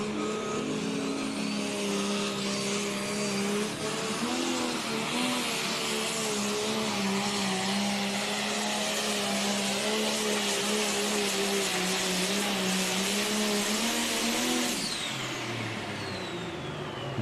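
A pulling tractor's engine roars loud and steady through a pro tractor pull run at the Show Me Showdown, holding a heavy, sustained drone with shifting pitch before easing off near the end.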